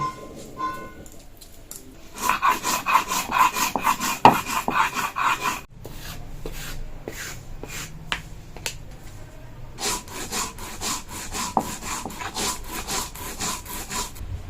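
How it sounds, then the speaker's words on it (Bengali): Soaked atap rice is ground by hand on a grinding stone for fritters, a close, rhythmic scraping and rubbing with repeated strokes, some heavier, alongside sharp knocks. "এখন আতপ চাল বেটে নেব বড়ার জন্য"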